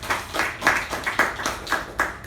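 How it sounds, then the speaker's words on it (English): Applause from a small meeting audience for a sergeant-at-arms, with bursts of clapping that rise and fall in waves, close and fairly loud, with no talking over it. "So let's give her a huge round of applause."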